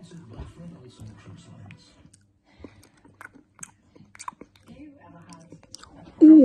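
Harry Potter sweets are chewed close to the microphone in soft, intermittent bites and clicks, broken by quiet murmured speech, before a sudden loud vocal burst at the end.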